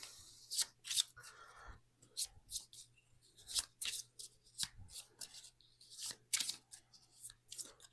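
Explore cards for the Storyfold: Wildwoods board game get shuffled by hand, giving a series of quick, crisp riffling bursts with brief pauses in between, close and fairly quiet.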